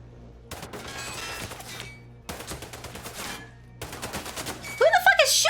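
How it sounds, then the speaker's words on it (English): Bursts of rapid automatic gunfire in Sniper Ghost Warrior 3, three volleys separated by short gaps, fairly loud, ending in a sharp cluster of high impact sounds. "Who the fuck is shooting at me?"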